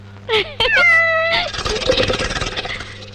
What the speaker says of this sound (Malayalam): ഇതേതേ പൂച്ച